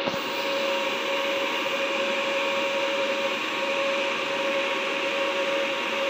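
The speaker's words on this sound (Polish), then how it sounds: "Mamy pracę falownika. Włączyły się wentylatory." Cooling fans of a Deye Sun 10 kW inverter running off-grid with a LiFePO4 battery give a steady, even whir with a constant tonal hum, close and unbroken throughout.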